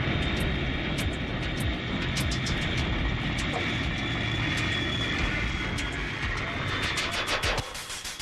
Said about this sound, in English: giant airliners extend their flaps to slow down for landing